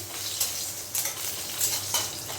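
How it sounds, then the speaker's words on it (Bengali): Cumin, dried red chillies, bay leaves and slit green chillies sizzle in hot oil, a steady close crackle broken by four brief louder bursts as a spatula stirs the spices, with no voices. "ফোড়নটা একটু ভেজে নিচ্ছি।"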